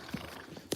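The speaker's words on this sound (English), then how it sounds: "You're making crazy noises, Georgia" A donkey being led to a barn makes a short pair of brays or snorts, one near the start and a louder burst at the end, with a quiet gap between.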